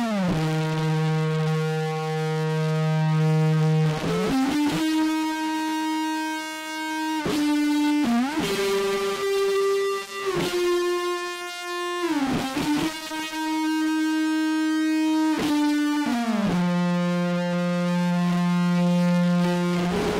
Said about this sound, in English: it's recorded with a big muff, with a huge amount of distortion